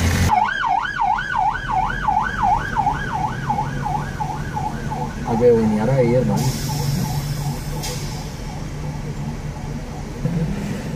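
Wailing ambulance siren stuck in heavy traffic, a loud, steady rising-and-falling tone that sweeps repeatedly before shifting to a faster yelp pattern, with someone speaking over it.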